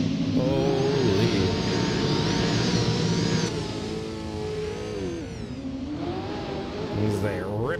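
Drift cars at Road Atlanta rev hard across the finish line in a loud, close engine roar whose pitch sweeps up and down, with a commentator talking over the noise.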